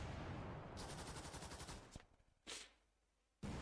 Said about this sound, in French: Là, ça a tiré là-bas. Oui, ça a tiré.